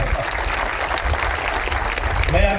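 Sustained applause from a crowd at a political rally welcoming BJP party officials on stage, steady dense clapping with a speaker's voice beginning over it at the end.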